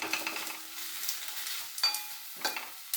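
Tomatoes sautéing in a pan with spices give a soft continuous sizzle with occasional scraping stirs of a spoon, close and fairly quiet, with no talking.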